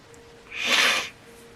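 A single short sneeze bursts out close to the microphone, a quick breathy blast lasting under a second amid quiet room tone.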